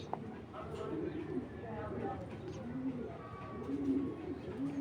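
Several pigeons coo in low, overlapping bursts throughout, close and steady, at a market selling tournament pigeons and Giribaz high-flying pigeons, with faint background murmur.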